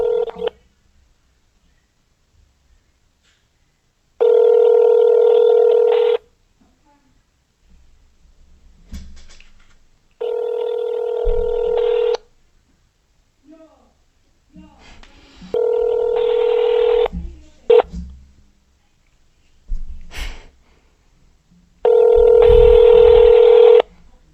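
Touch-tone dialing on a phone for a prank call to a McDonald's store, long steady tones alternating with short beeps and bursts of handling noise, close and loud, with a few quiet voices between the tones.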